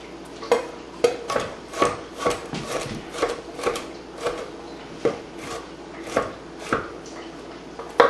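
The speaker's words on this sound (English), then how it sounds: "Jess says these need to be finely chopped" Peppers and onions being chopped finely on a board, a steady series of sharp knife taps, irregular but frequent, close and clear with no talking.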